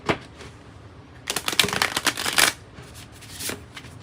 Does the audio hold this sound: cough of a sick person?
no